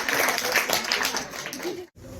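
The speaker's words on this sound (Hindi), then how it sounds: "जोरदार तालियों से इसका स्वागत अभिनंदन।" Audience of schoolchildren at a school blessing ceremony clapping in welcome, a busy wash of claps with voices mixed in, cutting off briefly near the end.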